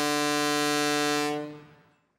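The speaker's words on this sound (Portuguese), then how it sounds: "A buzina do barco não é um brinquedo." One loud, steady blast of a deep, buzzing boat horn holds for over a second, then cuts off and fades quickly.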